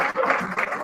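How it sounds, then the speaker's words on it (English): Audience at a live event applauding, a short burst of clapping heard close and moderately loud. "McAllister is now Vice President of UEFA, which I think deserves a round of applause, ladies and gentlemen"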